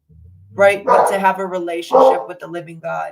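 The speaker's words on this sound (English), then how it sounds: "And sorry for my dog" A dog barks and yips several times indoors, close by, under someone speaking continuously.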